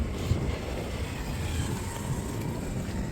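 Strong wind blowing outdoors in hilly Haridwar, a steady broadband rush buffeting the microphone throughout with no pauses.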